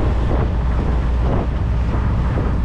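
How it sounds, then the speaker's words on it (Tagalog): Strong, steady wind buffets the microphone aboard a fishing boat at sea, a constant low roar with faint wash of water and no voices. "Medyo mahangin na siya, pero ganito talaga to."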